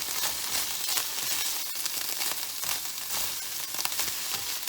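Beef tips sizzle and fry steadily in a hot pan while being stirred, a dense, continuous crackling hiss with faint scraping touches, close and fairly loud, with no talking.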